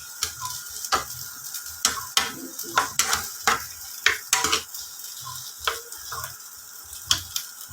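Garlic tossed into onions frying in a pan, sizzling steadily while a utensil stirs and scrapes in regular sharp clicks and knocks, close and moderately loud.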